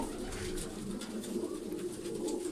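Pigeons coo and flutter softly in a loft, with steady background noise and scattered higher bird calls; fairly faint and continuous, no speech.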